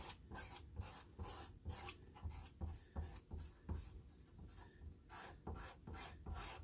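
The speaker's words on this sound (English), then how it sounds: "I'm just scraping, taking all my excess back off." Scraping excess filling back off an apple pie, a dry rubbing rasp repeated in quick strokes, close and fairly quiet, with no talk.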